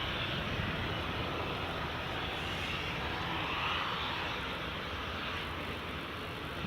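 Aircraft engine roaring steadily at Edinburgh Airport during evening plane spotting by runway 24, a continuous loud broadband rush with no talk over it.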